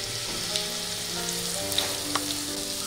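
Grated sweet potato with green chilli sautés in a pan, giving a constant soft sizzling hiss up close, punctuated by a few light clicks of stirring, with no voices.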